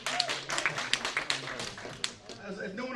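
Scattered clapping from an audience in a lecture hall, a brief burst of separate hand claps of moderate loudness with murmuring voices mixed in.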